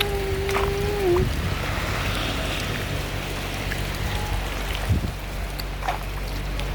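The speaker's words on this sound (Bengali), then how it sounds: "দেখতে পাচ্ছেন আজকে অনেক বৃষ্টি হচ্ছে আমাদের এখানে চুনারঘাটে।" Heavy rain pours down in Chunarughat, a steady, dense hiss of falling water that stays loud and continuous throughout, with a brief tonal whistle-like sound near the start.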